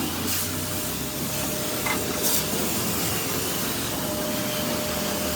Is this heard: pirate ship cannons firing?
no